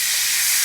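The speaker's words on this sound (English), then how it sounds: "you can hear the sizzling" Olive-oil-marinated steak sizzles in an otherwise dry pan, a steady bright hiss held at close range for under a second with no talk.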